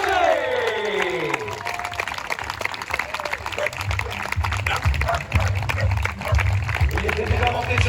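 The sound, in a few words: applause for the race winner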